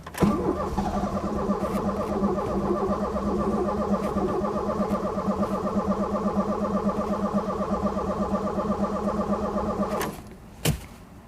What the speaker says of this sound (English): Smacking the starter motor with a bicycle pump worked a treat